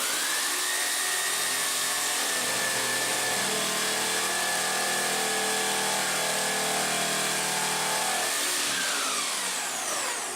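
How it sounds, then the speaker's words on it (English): A power saw blade grinds steadily through a countertop at an inside corner during installation, a loud continuous whine whose pitch shifts as the blade pivots, then winds down near the end. "now I'm able to pivot the blade and work that corner"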